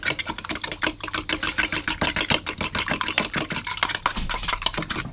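Eggs and milk whisked in a bowl, a fast, steady rhythmic clatter of the whisk striking the sides, close and fairly loud with no talking.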